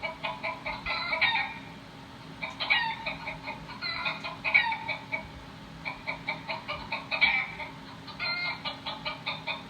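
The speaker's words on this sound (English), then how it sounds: "It's a chicken." A chicken clucks in a rapid, repeated series of squawks, moderately close and standing alone, with short bursts of calls rising and falling.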